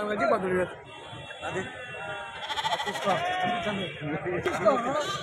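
Goats bleat repeatedly nearby among chattering voices, their wavering calls blending with people talking at the busy Jammalamadugu livestock market before Bakrid.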